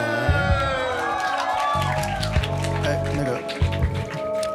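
A live concert audience at the Wetland venue cheers and whoops as a guest performer is welcomed, with lively crowd noise, while an amplified voice and music play over it.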